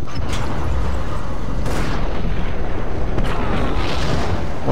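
Loud, dense booming blasts and bursts of gunfire in the PC game Max Payne, with a few sharper cracks standing out above the constant roar.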